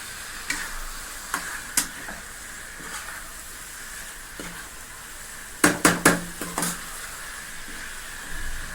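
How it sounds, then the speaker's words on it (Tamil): Chicken pieces stirred and lightly fried in a pan of gravy, with a steady soft sizzle, scattered scraping ticks of a spoon and a quick cluster of louder clatters near the end; no talking. "சிக்கன் துண்டுகளை ஒன்று ஒன்றா அப்படியே தள்ளி விட்டுட்டு அப்படியே லைட்டாக வதக்கணுங்க."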